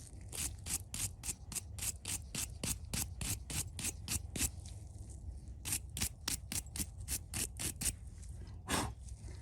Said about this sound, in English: I'm going to clean this up a little bit with a brush.